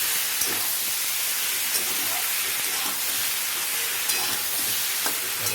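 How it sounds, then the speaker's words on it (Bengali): Bottle gourd and fish curry cooking in a pan, a steady near hiss and sizzle with a few soft stirring knocks spread through it. "এবার আমি ভালো করে এটাকে নাড়তে থাকবো।"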